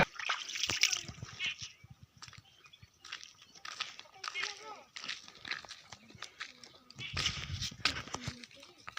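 Repeated splashing as water is poured from a bucket while bathing outdoors, irregular close sloshes and splatters in bursts with pauses between, with voices talking and calling out throughout.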